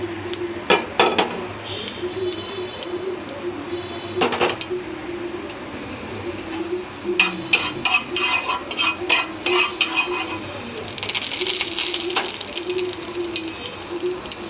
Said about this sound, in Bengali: এখন আমি তেলের মধ্যে একটু ভেজে নিব